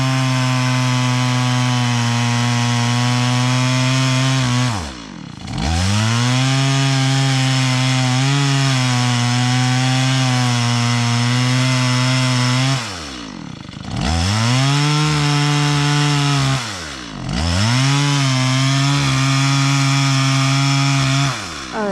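A chainsaw cuts into an oak tree while a hinge of wood is left for felling, its engine droning loud and close at a steady high pitch, dipping briefly three times as the throttle eases before revving back into the cut.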